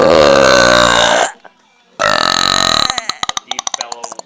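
A loud, deep, drawn-out belch from a man, close and forceful, breaking off for a moment and then resuming as a long rumbling burp that ends in a stuttering rattle.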